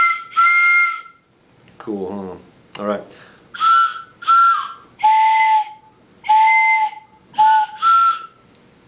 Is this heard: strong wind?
no